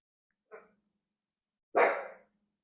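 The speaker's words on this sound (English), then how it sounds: "I do apologize for any barking of my dogs during this time." Two separate dog barks, a short soft one followed about a second later by a louder, fuller bark, with silence around them.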